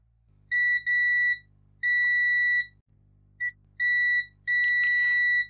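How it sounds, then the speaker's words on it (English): A multimeter set to continuity mode gives a string of shrill electronic beeps, some long and some clipped, separated by short gaps, close and clear over a faint steady hum. "I can check it with the multimeter."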